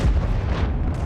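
A heavy tank cannon shot in a World of Tanks–style battle, a single loud deep boom that fades into a rumbling tail.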